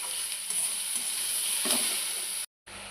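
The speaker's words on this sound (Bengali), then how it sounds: "এবার লতিটা ভেজে নেব। লতিটা একটু ভেজে নিয়ে নুন আর হলুদ দিয়ে দিলাম" Kochur loti (taro stolons) frying in a pan, making a steady, moderately quiet sizzle with a few stirring scrapes. It cuts out briefly near the end and then carries on.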